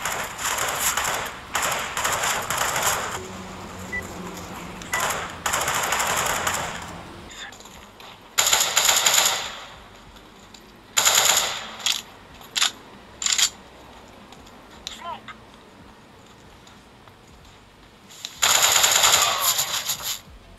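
Bursts of rapid automatic gunfire from the video game CS GO, several volleys of varying length separated by quiet gaps, heard close and loud with no talking.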